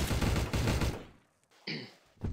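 Rapid burst of gunfire in Trouble in Terrorist Town, a flurry of shots for about a second that then trails off, followed by a short metallic ring and one more abrupt bang at the end.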